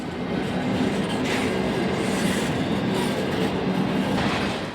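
Union Pacific freight train rolling south through Glenwood on Chicago's Joint Line, a steady, loud rumble of rolling cars and wheels continuing throughout, close by, with no voices.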